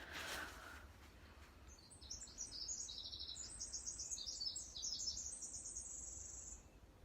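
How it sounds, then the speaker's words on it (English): A wild bird sings outdoors, a series of high bright chirping phrases repeating from about two seconds on, moderately near over a quiet hiss of background ambience, with a short low noise at the start. "Oh, what a beautiful bird."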